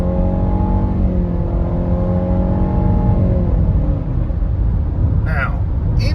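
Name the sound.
2017 Nissan Rogue SV accelerating on freeway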